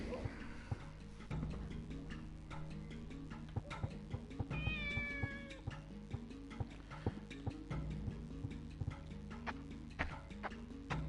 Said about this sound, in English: We'll go pet the cat.